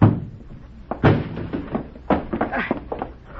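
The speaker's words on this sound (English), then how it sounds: "Break down the door." Radio drama sound effect of a door being broken down: several heavy thuds and slams strike in an irregular sequence, close and loud, with no voices over them.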